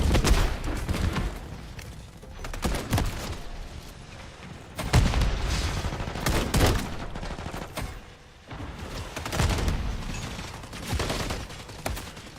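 Rapid bursts of video game gunfire fill the stretch, with dense volleys recurring and brief lulls between them, loud and close throughout.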